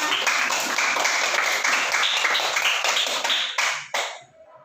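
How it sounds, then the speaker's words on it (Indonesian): Children in a classroom clap their hands together in a bright, busy patter that carries on evenly, then breaks into a few scattered last claps and fades to near quiet. "Tepuk tangan semuanya."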